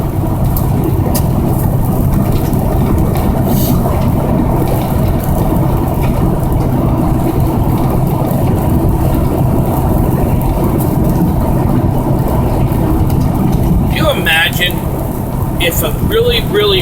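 Truck rolling at about 55 mph across the Chesapeake Bay Bridge-Tunnel, a constant loud rumble of engine, tires and wind, with someone talking briefly near the end.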